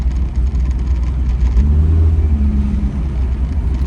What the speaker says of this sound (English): I am very pleased with this little car, complete with authentic belt squeal